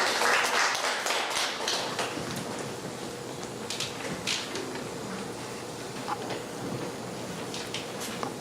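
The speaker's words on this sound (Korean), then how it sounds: "큰 박수 보내주십니다" Audience applause during a filial-piety education lecture, a steady wash of clapping from a seated crowd that gradually thins over several seconds, with faint scattered taps near the end.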